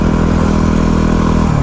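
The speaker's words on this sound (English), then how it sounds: "you can really fling this bike around" A Yamaha WR250R dual-sport motorcycle engine sounds loud and close as the bike is ridden, a steady rasping drone whose pitch shifts near the end of the brief moment.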